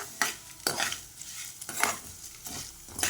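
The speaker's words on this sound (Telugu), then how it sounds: "ఇప్పుడు తీసేసి కరివేపాకు ఇదే బాండెట్లో వేయించేస్తాను" Curry leaves frying in oil in a kadai, heard as a constant hiss broken by about five sharp stirring scrapes, close up with no voices.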